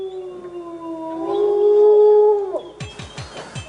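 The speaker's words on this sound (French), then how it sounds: "j'ai entendu des loups hurler" Wolves howling on a winter night: long, sustained, wavering tonal howls layered together, rising and falling, fairly loud, then cut off by a sudden burst of sharp broadband noise.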